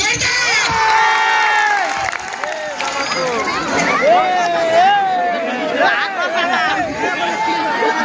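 A lively audience at a stage comedy programme, with a loud, continuous roar of cheering, shouting children and crowd babble that fills the whole stretch, close and dense.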